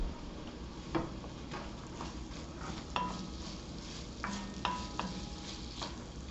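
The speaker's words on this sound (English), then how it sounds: "Saute this for a few minutes until they're done." Onions, carrots, celery and garlic sauté in a soup pot with a steady soft sizzle, broken by occasional stirring clicks and light scrapes of a utensil against the pan.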